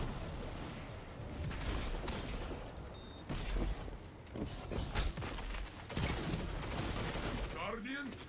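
Rapid bursts of hand cannon gunfire in Destiny Trials crack over a noisy mix of mechanical effects, with people talking throughout.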